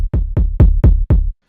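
Layered boom bap kick drum with a deeper, lower-tone kick stacked underneath: five heavy, booming hits in a steady rhythm, loud and close, each thumping low and decaying quickly, with no voices.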